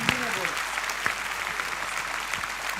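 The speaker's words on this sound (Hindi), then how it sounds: "A big hand, a big hand." Audience applause rises at a spiritual talk, a dense patter of many hands clapping at moderate distance, with a voice speaking briefly at the start over it.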